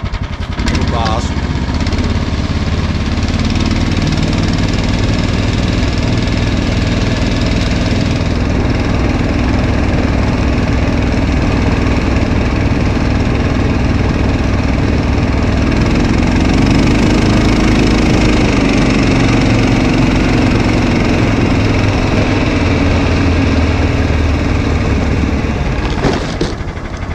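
The small engine of a Snowdog motorized tracked sled runs steadily and close by, with a brief rise in revs partway through and a constant rough drone throughout.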